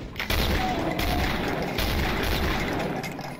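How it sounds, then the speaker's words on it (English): Gunfire in the Deus Ex Randomizer game rattles out as a dense, loud barrage of overlapping shots, sustained with barely a pause for the whole stretch. "I say as I shoot up the place"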